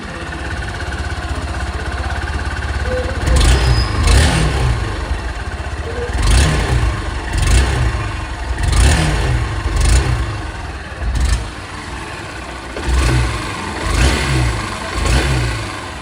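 A 2026 Honda Unicorn 160 motorcycle engine running close by, repeatedly revved in short throttle bursts that rise and fall over a steady idling rumble, with no talk.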